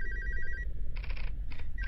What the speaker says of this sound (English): It was just a phone call.